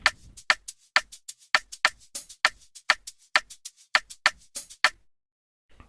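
A second afrobeat shaker loop, busier than the first, sounds alone as a steady stream of sharp, bright shakes in a tight repeating groove, close-miked, ending in brief silence.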